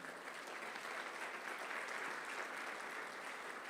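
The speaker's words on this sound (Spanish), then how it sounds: "¿Le puedes dar un fuerte aplauso al Señor Jesús?" Sustained applause from a large church congregation, a dense even wash of clapping that holds steady throughout.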